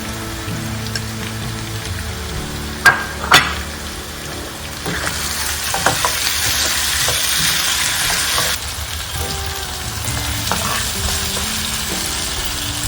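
Curry leaves hiss and crackle as they hit beef frying in coconut milk, a steady sizzle with a few sharp pops and stirring clatters, close and loud.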